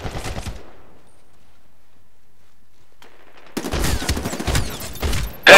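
Gunfire in Medal of Honor Warfighter multiplayer, a short burst, then a gap of near silence, then a dense run of rapid automatic shots and a final loud blast.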